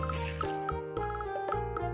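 Water drips and trickles while a plastic toy reindeer is washed, with a series of small close liquid plinks and splashes over a steady running-water background.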